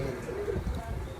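A female pigeon gives a soft, low cooing call, close and fairly quiet, over faint background murmur, ending with a short louder knock.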